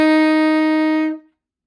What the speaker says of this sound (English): And the tenor saxophone note is called F.